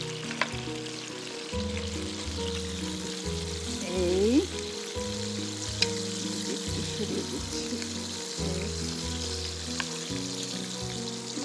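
Hilsa patturi wrapped in gourd leaves fries in oil with a soft continuous sizzle, while people talk over it throughout.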